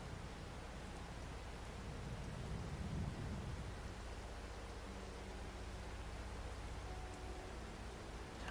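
Rain in the farming game Farming Simulator 22, a soft continuous wash of steady rainfall, faint and even throughout with a low rumble partway through, no speech.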